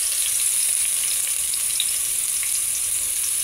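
Garlic sizzling steadily in hot oil in a pan, a dense continuous frying hiss at close range with faint stirring ticks, no voices.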